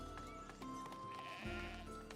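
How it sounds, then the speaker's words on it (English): Sheep bleat in the village-building video game Foundation, giving a few clear, wavering cries over a low bed of ambient game sound, moderately close and not masked by talk. "The sheep."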